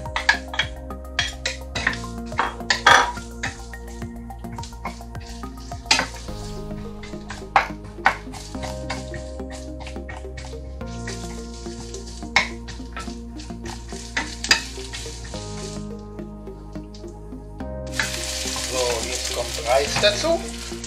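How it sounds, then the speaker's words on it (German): Onions and garlic sweat in a pan for fried Asian rice, a soft sizzle under repeated sharp clinks and taps of a utensil against the pan, with a louder burst of frying near the end. "Wie immer schwitzen wir als erstes Zwiebeln und Knoblauch an"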